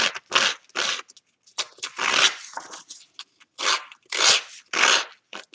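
A paper distressing tool scrapes along the edges of card stock in repeated rough, raspy strokes, close and fairly loud, with short pauses between passes.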